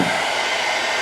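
An electric blow dryer runs steadily at about 624 watts on a portable power station, a loud continuous airy whoosh with no pauses.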